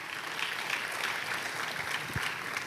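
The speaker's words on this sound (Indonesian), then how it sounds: "Tepuk tangannya pula yang paling meriah." A church congregation breaks into steady, dense applause during a sermon, a continuous wash of many hands clapping together at moderate volume, with no voices heard over it.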